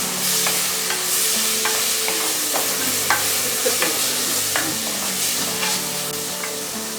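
Chopped tomato is stirred into oil in a frying pan for prawn theeyal, a Kerala curry. A spoon scrapes and clinks steadily against the pan under a continuous loud sizzle.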